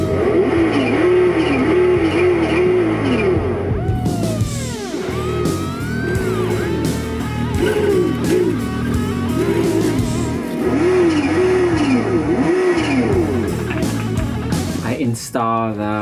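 A remote-control Nissan GTR R35 model car with its clutch engaged produces a loud, close engine sound that revs in repeated rising and falling surges, with squealing, sweeping tones and continuous mechanical noise throughout.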